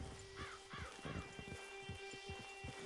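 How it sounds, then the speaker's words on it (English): Horse hooves clip-clop in Red Dead Redemption 2 online, a steady rhythm of close, distinct footfalls with a brief whinny-like call near the start. "Get your horse."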